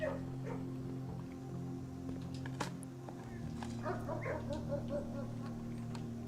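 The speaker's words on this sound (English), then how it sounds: "Because then there's puppies." Puppies in the video game Blue Prince yipping and whimpering in short high bursts over a sustained low musical drone, faint and somewhat distant, the cries clustering near the end.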